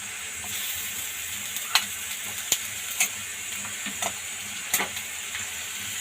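Tomato hits hot oil with browned onions while making spicy eggplant bharit, giving a steady close sizzle with a few sharp clicks of a stirring spoon against the pan.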